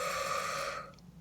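A single deep, airy breath is drawn in close to the microphone, loud and steady for most of a second before fading out.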